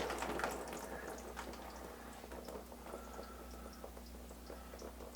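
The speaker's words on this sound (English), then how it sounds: "you usually will spill a little bit of water" Water spilling and trickling as a reverse osmosis filter housing is unscrewed and opened, a steady close wet splashing with a brief louder burst at the start over a constant low hum.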